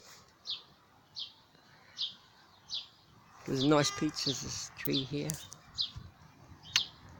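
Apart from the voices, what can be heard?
birds chirping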